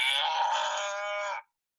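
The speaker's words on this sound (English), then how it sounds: "A cow makes these sounds," A cow gives one sustained, close moo lasting over a second, rich and steady, then cuts off into silence.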